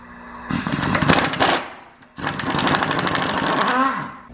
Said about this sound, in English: It's impact time, boys.